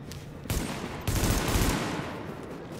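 Bursts of gunfire crackle in The Division video game, with a couple of sharp volleys in quick succession over a lingering rattle, moderately loud and without talk.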